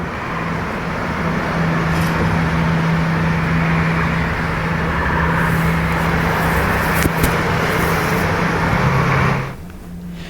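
Heavy post-Lebaran traffic at the Cikatama toll gate makes a dense, steady roar of cars and larger vehicles. It stays loud and continuous, with a low engine drone underneath, then eases slightly near the end.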